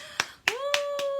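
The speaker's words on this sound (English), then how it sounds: "I need applause." Applause sound effect dropped into a podcast episode: a few sharp, evenly spaced hand claps with a sustained tone running beneath, brief and close, with no one talking.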